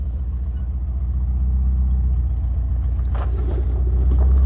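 A van towing a trolley contraption rumbles along, its engine a steady low drone throughout, with a faint knock or clatter near the end.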